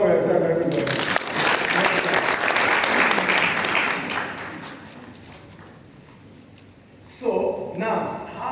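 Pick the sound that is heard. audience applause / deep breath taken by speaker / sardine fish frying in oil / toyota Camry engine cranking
audience applause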